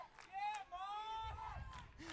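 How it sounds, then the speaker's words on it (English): Cheer squads yell and whoop at a quidditch match, a loud crowd of raised voices with rising and falling shouts carrying steadily through the whole moment, with low rumble of activity underneath. "The cheer squads from each side are going nuts."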